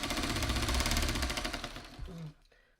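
A sewing machine stitches fabric strings for a scrappy shoofly quilt block in a rapid, even mechanical chatter, loud and close, that slows and stops near the end.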